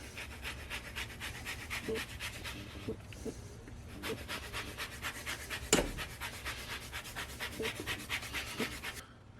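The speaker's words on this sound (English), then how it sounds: "I'm going to zest about a third of the orange" A hand zester rasps across the peel of a large orange in quick, repeated close-up scraping strokes, with one sharper knock partway through.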